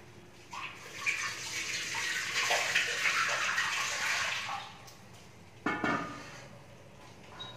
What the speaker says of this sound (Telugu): తీసుకుపోయి సింక్లో పెట్టేసి వాటర్ పట్టు